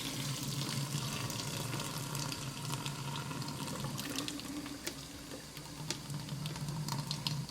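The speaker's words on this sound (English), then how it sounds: "I'll use my screen splatter. I'll place it on top. I'll drain the water." Spaghetti cooking water pours through a splatter screen into a sink, a steady continuous rush of liquid with splashing and gurgling, close and fairly loud throughout.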